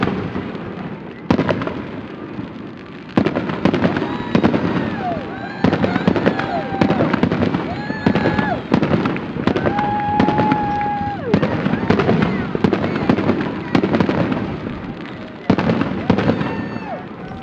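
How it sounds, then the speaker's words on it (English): Fourth of July fireworks over St. Helens on the Columbia River, with continuous loud crackling and booming bursts and whistling rockets rising throughout, heard from a distance in the open. "the trip begins with a night of 4th of July fireworks"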